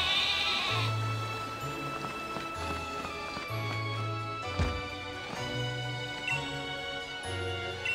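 Repeated sheep bleats on a farm in a video game, cartoonish and fairly loud, sounding in short bursts over a steady game music bed with light hoof-like clopping.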